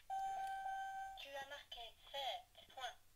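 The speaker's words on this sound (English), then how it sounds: "you can hear the timer clicking down just like this" A Rubik's Revolution electronic cube timer gives a steady electronic tone followed by a few short beeping chirps, close and fairly faint, with a voice speaking alongside.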